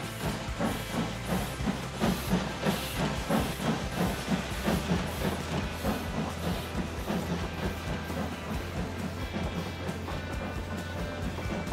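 A steam train in Transport Fever 2 runs along the tracks, giving off a continuous hiss under a steady rhythmic chuffing and clickety-clack of wheels that stays even and fairly close throughout.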